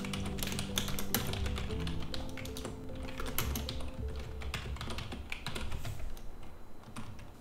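A keyboard connected to an Xbox is typed on in quick, close bursts of light key taps, with brief pauses between runs and no talking.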